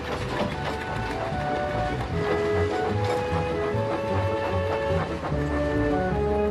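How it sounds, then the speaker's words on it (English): Busy mechanical clattering and rattling of quarry work in a cartoon, with ringing metallic tones and a rumbling undertone, continuous and fairly loud, like machinery at work. "Soon the quarry was clattering with the sound of work."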